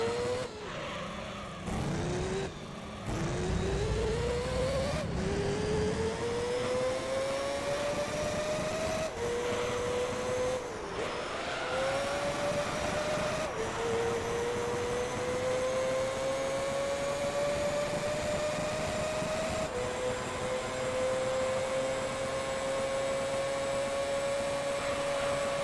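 Race car engine in the Gran Turismo 3 video game, a loud continuous whine rising through repeated gear shifts, with brief drops and tire squeal between, heard alone.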